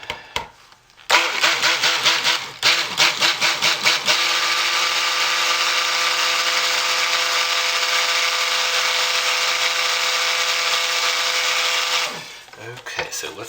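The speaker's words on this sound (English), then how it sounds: "let's hit this with a stick blender" A stick blender starts in short pulses, then whirs steadily at high speed for several seconds mixing soap batter before cutting off.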